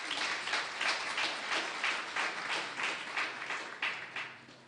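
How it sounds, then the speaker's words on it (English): A graduation ceremony audience at Nelson Mandela University's George Campus breaks into a round of applause, a dense, steady wash of many hands clapping with gentle rhythmic swells, sustained throughout and unaccompanied by speech. "Let's give them a round of applause."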